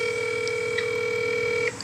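Telephone dialing on a call, heard as a steady, close ringback tone holding for well under two seconds, with short dual-tone keypad beeps layered over it before the tone cuts off.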